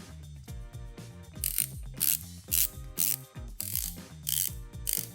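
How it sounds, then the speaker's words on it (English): A titanium rotating bezel on a Zelos Blacktip dive watch clicks as it is turned, giving a rapid series of close, crisp ratcheting clicks in irregular bursts, with no talk. "That is the sound of a titanium bezel on this new Zelos blacktip."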